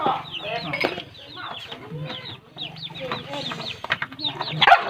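Chickens cluck and squawk busily at close range on a rambutan orchard in Pak Chong, with repeated short calls throughout and people talking over them.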